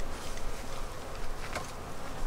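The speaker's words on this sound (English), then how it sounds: "These bees are on me." Agitated bees swarm close around a beekeeper working a hive, a dense, loud, fluttering buzz that continues throughout.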